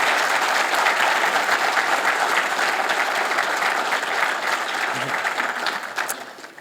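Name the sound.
round of applause at investiture ceremony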